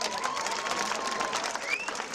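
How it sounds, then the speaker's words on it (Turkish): A crowd at the Tarsus international half marathon applauds and cheers for special athletes, steady clapping mixed with scattered shouts and a whistle, heard from within the crowd. "Onlarla çok büyük bir alkış alın kendimize"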